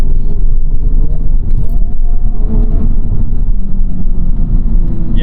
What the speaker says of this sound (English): This is a pretty bumpy road, and even in comfort, this is getting kind of rough.